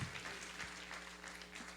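Congregation in a church applauding, a steady wash of clapping from many hands that holds at an even, moderate level throughout, somewhat distant and diffuse.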